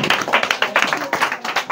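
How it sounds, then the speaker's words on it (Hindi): Children in a classroom clap for a student who solved a math problem at the board, a brisk, loud burst of many hands beating in quick uneven rhythm. "ताली बजाओ इनके लिए भैया।"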